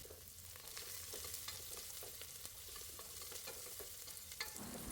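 Chopped shallots and garlic fry in a pan with a steady, faint sizzle and occasional soft stirring scrapes, with no voices over it.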